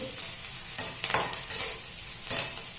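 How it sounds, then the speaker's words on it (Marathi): Onion with crushed garlic frying in a pan, a steady soft sizzle broken by several quick scraping stirs in the middle and one near the end, fairly quiet and close, with nobody talking. "कांदा भाजत आलेला आहे"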